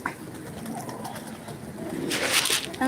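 Pigeons on a rural homestead that also keeps hens, goats and cows, cooing softly in low, throaty calls under a steady background hiss that grows louder near the end, with no one speaking.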